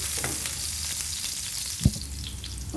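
Garlic sizzles steadily in a hot pan while ampalaya is being prepared, a loud, close, continuous frying hiss broken by one brief knock of a utensil.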